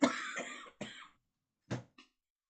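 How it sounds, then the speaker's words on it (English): A person coughs in a harsh, close fit: a long rough cough, a shorter one, then after a pause two more brief coughs. "I hate coughing."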